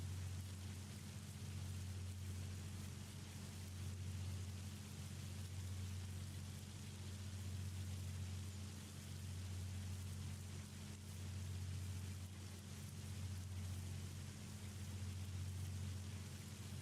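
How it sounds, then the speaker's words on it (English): Hail pelts down steadily in a farming video game, a dense, even patter under a low droning hum. It holds the same level for the whole stretch, with no voices. "Not sure why it's still hailing."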